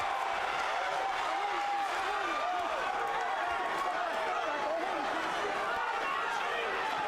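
A boxing crowd roars continuously during a fight, a loud, dense wash of cheering and applause with a commentator talking over it throughout.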